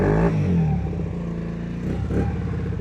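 Peugeot Kisbee scooter with an aftermarket exhaust idling as it warms up, a loud, close, steady engine rumble with a brief rise in revs near the end.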